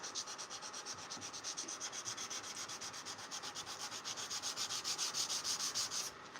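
Sandpaper worked by hand along a forged steel knife blade, making steady rhythmic back-and-forth rasping strokes that run continuously and close up, with no voices.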